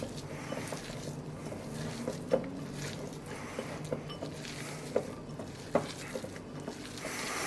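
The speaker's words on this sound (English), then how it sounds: "we're just going to mix it up with our hands" Minced meat filling with marjoram for potato pancakes being kneaded by hand, soft wet squishing and pattering at an even rhythm, close up with a few sharper slaps.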